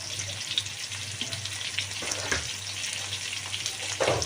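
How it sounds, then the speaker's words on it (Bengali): Potatoes frying in oil with a little salt and turmeric, a steady close sizzle running throughout with a few soft scrapes and clinks of stirring. "আমি তো আলুটাও একটু ভেজে নেব সামান্য নুন হলুদ দিয়ে"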